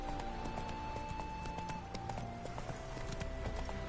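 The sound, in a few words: horse Roach galloping in video game The Witcher 3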